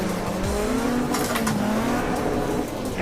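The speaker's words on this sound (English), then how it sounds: "my car is kind of getting bounced all over the place, sliding into the deeper ends of the ruts" A rally car in the Richard Burns Rally video game slides through deep ruts on the LongYou SSS stage, its engine droning loud and steady with a shifting pitch and brief tyre scrubs, with no voices.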